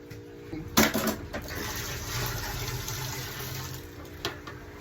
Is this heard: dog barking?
no